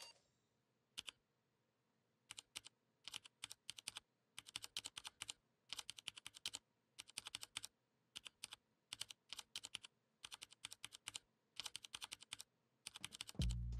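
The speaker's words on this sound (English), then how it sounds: "The emote ASMR keys." Keyboard typing from the ASMR keys emote in the Fortnite video game: bursts of crisp, rapid key clicks in uneven clusters across the whole stretch, close and clear with no talking.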